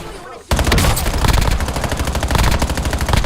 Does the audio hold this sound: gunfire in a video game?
yes